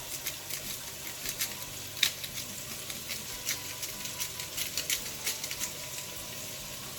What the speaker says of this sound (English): onions are starting to brown. I'm going to throw some salt in them